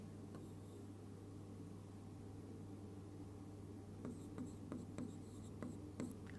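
Pen writing on paper while working a coordinate geometry problem, soft scratching strokes over a steady low hum, with sharper ticks toward the end.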